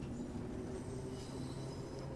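A train rolling along in Train Sim World 2, a steady low rumble with faint tonal hums from the traction and wheels, continuous and close, with no voices.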